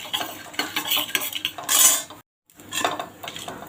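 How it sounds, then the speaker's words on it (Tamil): A spoon stirring urad dal with mustard seeds in a pan for minnal upma, repeated metallic scrapes and clinks close by with a bright rattling burst, a brief dropout, then more stirring. "இப்போ நம்ம உளுத்தம்பருப்பு சேர்த்துக்கலாம். ஒரே 1 நிமிஷம் நல்லா மிக்ஸ் பண்ணிக்கலாம்."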